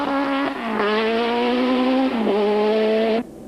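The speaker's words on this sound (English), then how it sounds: "Back on board with Lawrence in the penultimate stage, unaware at this point that Fecken running behind him had retired from the event, he was pushing as hard as ever" Rally car flat out on a stage of the 2003 Sasol Rally: a loud, close engine at a sustained high-rev howl, dropping briefly at two gear changes before climbing again, then cutting off abruptly at the end.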